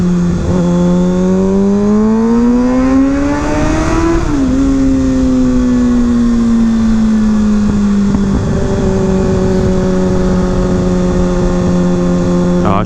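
A Kawasaki ZX6R sport bike fitted with a Graves exhaust screams through a tunnel, its loud, echoing engine note rising as it revs, dipping at a shift, then holding a high, droning pitch.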